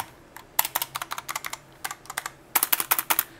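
Keys clack on an Aula F3287 budget keyboard: quick bursts of close, crisp typing, loud and rhythmic with brief pauses between runs, and no talk.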